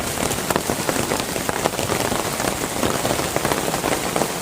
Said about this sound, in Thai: ฝนตกขนาดนี้เอาอยู่ไหมครับ